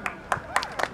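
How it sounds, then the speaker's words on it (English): A few scattered hand claps sound at a school annual function, saluting NCC cadets; four or five distinct claps in about a second, with a faint voice between them. "A huge round of applause for our NCC cadets"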